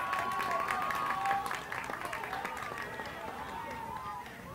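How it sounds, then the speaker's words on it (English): Crowd applause and cheering at a college quidditch match between Ball State and Maryland, a steady wash of clapping and voices carrying over the field, fairly loud and continuous, easing slightly after the first second. "Crowd applauding the effort there of Ball State"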